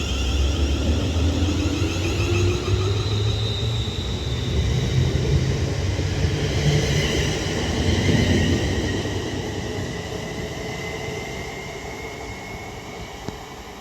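A Class 350 electric train pulls away from Hartford station on the West Coast Main Line with a steady low rumble and rising motor whine, wheels rolling on the rails nearby, fading slightly as it departs.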